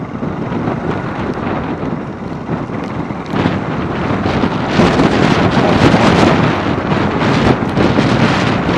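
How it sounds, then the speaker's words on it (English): Strong wind buffets the microphone of a Campark 4K camera during a Honda CB250RS motorcycle ride near a beach, a continuous roaring rush that swells louder midway, with no voices. "It's getting windy and rainy."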